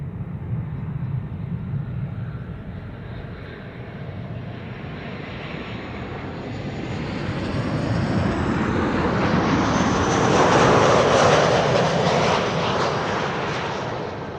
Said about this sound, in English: There's a 787-10 arriving from New York.